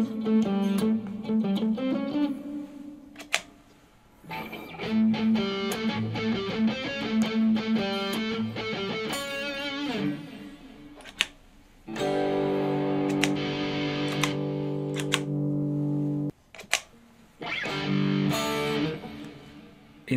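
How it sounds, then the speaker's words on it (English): An electric guitar played through a Kemper Profiler Player sounds distorted, with effects, in bursts of chords and riffs separated by short pauses. It is loud and upfront, with no voice. "Guitar here."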